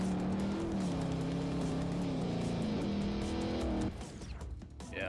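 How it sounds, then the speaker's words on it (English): A race car in Forza Motorsport 4 revs its engine, a loud continuous tone stepping up and down through the gears, then cutting back to a rougher, quieter note near the end. "I'm gonna try to just do it entirely based on engine sound, I guess."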